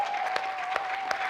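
Dense, steady applause from a congregation acclaiming God at a French-language church meeting, continuous clapping with a sustained tone running beneath it, no clear cheering.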